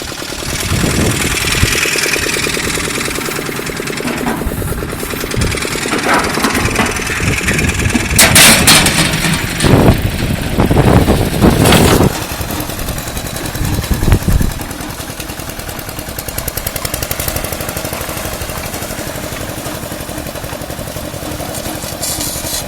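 Small walk-behind tractor engine runs steadily with an attached seeder, a close, continuous mid-pitched drone that swells and grows rougher around the middle as it moves off, with no talk over it.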